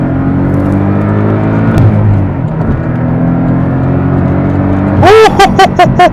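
A 2024 Porsche Cayman S accelerates through its gears, its engine note rising in pitch and then falling across shifts, loud and close, with a few rapid rev blips near the end.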